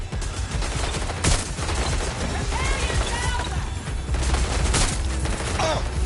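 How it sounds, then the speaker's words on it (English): Sustained gunfire in Watch Dogs: Legion, a dense, loud barrage of shots with sharp bursts standing out, running throughout under voices shouting in the background. "They're shooting!"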